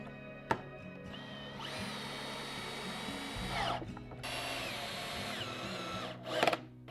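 A power drill drives a screw into wood for a toolbox project in two sustained whirring runs that rise in pitch, separated by a short pause, with clicks and knocks at the start and end.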